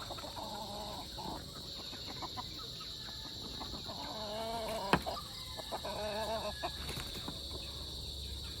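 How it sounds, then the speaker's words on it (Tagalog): White Kelso chickens cluck and call in repeated short bursts, fairly close, over a steady background hum with a brief knock partway through. "Yung mga manok nating white kelso."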